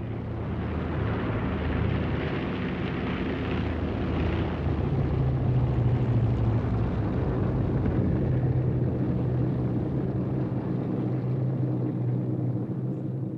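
The eight engines of a Bristol Brabazon propeller airliner drone in a deep, steady rumble, loud and continuous, with a low throbbing hum that swells slightly midway.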